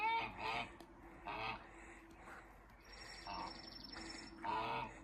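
Geese at sunrise honk in repeated bursts of loud, nasal calls, several overlapping at moderate distance, with short quiet gaps between groups and a faint outdoor background.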